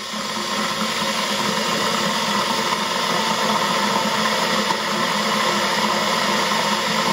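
A 2.6 kW electric kettle heating water, a loud, steady broadband rushing roar that holds evenly the whole time, close up with no talking.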